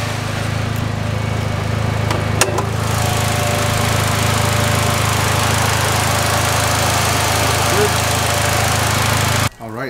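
Turbocharged Mitsubishi Lancer engine idles after an oil change, a loud, steady rumbling drone with a constant low hum, a brief click partway through, then cutting off abruptly near the end.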